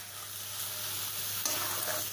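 Finely chopped pineapple pieces are stirred into sheera in a hot pan, a steady close sizzle and soft scraping stir that runs unbroken for a couple of seconds, with no talking.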